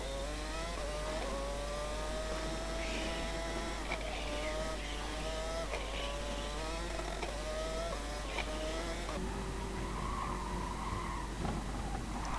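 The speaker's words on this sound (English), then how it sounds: "I managed to spin the car back around after hitting the wall" Racing video game car skidding and spinning after hitting a wall, a continuous loud tire squeal and engine whine with shifting pitch over steady game noise, no talk.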